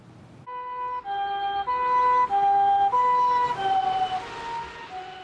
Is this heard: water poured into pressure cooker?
no